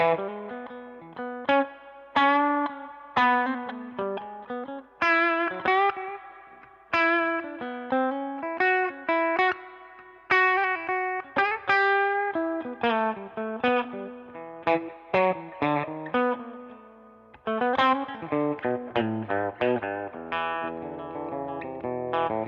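A solo electric slide guitar plays a melodic line of sliding, sustained notes with short pauses, no other instruments, and a touch of effects on the tone.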